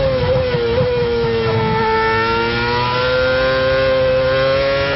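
A Formula 1 car at the Malaysian circuit goes to full throttle after braking, its engine note rising steadily in pitch through the gears, loud and sustained with no voices.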